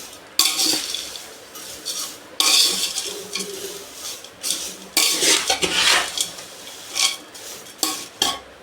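A metal spoon clatters and scrapes inside a pan as fried peanuts, coconut and dal are mixed for homemade poha chivda, producing loud, close, repeated rattling strokes in irregular bursts with no talking.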